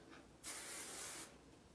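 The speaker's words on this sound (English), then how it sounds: "I just go in with my Volumizing Aquage spray again too," A single close burst of Aquage volumizing hair spray hisses steadily for just under a second, with no other sound around it.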